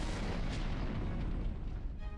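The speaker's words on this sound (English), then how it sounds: "Small airship, glinting in the night, turns and fires a series of cannon shots." A small airship in a video game fires a rapid series of cannon shots at night over a courtyard, a dense, loud barrage of booms running together without pause.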